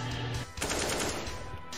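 Rapid automatic gunfire in Counter-Strike (CSGO) on a Goldeneye map, a dense, loud burst of shots filling most of the moment with a short gap partway through.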